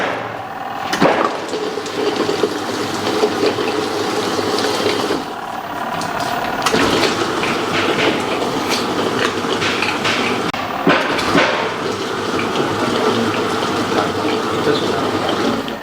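A 4-in-1 electric grinder grinds chutney with a loud, steady whirring roar that runs throughout, broken by a few bumps and brief dips, with no voices over it.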